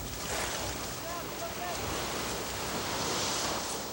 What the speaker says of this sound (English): we've got some swells now that'll flatten out again for about 30 minutes